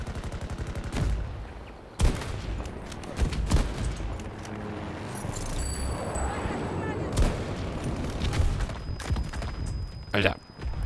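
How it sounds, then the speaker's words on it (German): Gunfire and explosions crackle and boom in the multiplayer shooter Battlefield 2042, with sharp blasts, rapid shots and a continuous battle din, while a player talks over the action. "jetzt explodiert hier wieder alles"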